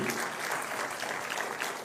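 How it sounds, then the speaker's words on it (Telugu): Audience applause at a public speech by a chief minister at a disability event, a dense, steady burst of clapping from a large crowd, filling the whole moment without any speech. "గట్టిగా చప్పట్లు కొట్టి అందరూ ఆశీర్వదించండి"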